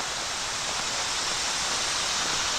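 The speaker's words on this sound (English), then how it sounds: "the Cadorus Creek is right down there. You might be able to hear it" Codorus Creek flowing below a hiking trail on the Mason-Dixon Trail, a steady broadband rushing wash of water, continuous and even, with no voices.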